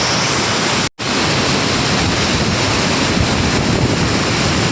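Water pouring over the Chittar dam waterfall in Tenkasi, a loud, steady broadband rush that holds constant for nearly five seconds, broken only by a brief instant of silence near the start.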